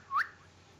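A single short, rising whistle, quick and fairly faint, heard during a co-op session of a cricket video game, with a low steady hum underneath and no talking.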